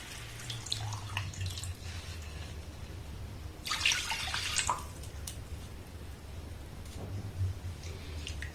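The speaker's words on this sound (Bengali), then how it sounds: "এবার এই চিনির মধ্যে দিয়ে দেবো ঘন করে জাল দিয়ে রাখা দু কাপ দুধ" Two cups of thickened milk are poured into sugar syrup, giving a short, splashy liquid rush mid-clip over a quiet, low background hum.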